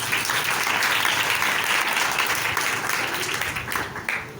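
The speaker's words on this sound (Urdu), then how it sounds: "ذرا جاگ کے یسوع کے لیے زوردار تالیاں بجانا" Church congregation clapping loudly for Jesus during an Urdu-language sermon, a dense, sustained wash of applause from many hands that stays strong throughout before easing slightly at the end.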